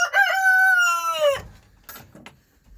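A rooster crows loudly once in a coop, a long sustained call of about a second and a half, followed by a few faint clucks and rustling.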